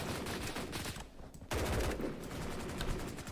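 Rapid automatic gunfire rattles in dense bursts in the BRM5 shooter game, with a brief gap before firing resumes loud and close.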